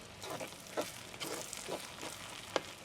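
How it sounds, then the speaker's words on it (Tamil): Onion, garlic, green chili and curry leaves saute in a pan for a bitter gourd stir-fry, giving a soft, continuous sizzle broken by a few stirring scrapes at close range. "இப்போ பாருங்க இப்படி வதங்கிட்டு நல்லா வெங்காயம் வெள்ளைப்பூடு பச்சை மிளகாய் கருவேப்பிலையெல்லாம் நல்லா வதங்கிட்டு"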